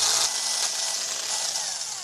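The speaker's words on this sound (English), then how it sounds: "then I use the smaller bit to drill only the holes that the new flush mount needs" A steady, high-pitched whirring of a power drill boring holes in plastic for flush-mount turn signals on a Kawasaki Ninja 250 motorcycle, continuous and close without pauses.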